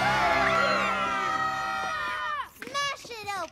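A crowd of cartoon children screams and cheers loudly in a sustained, overlapping burst for a Halloween costume vote, breaking into scattered whoops and shouts toward the end.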